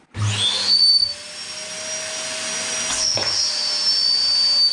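Homemade wet vacuum cleaner running steadily, a loud continuous motor whine with a strong start and a brief dip around the middle, no voices.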